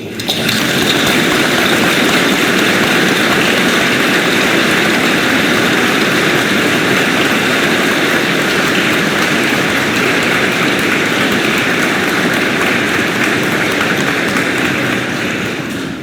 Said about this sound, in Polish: Brawa dla Łodzi.